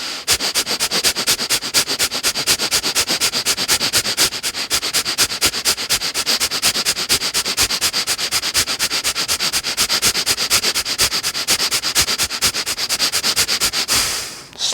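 Rapid yoga breath of fire: fast, even, forceful nasal exhalations repeat in a steady rhythm for about fourteen seconds, close and loud, with no speech.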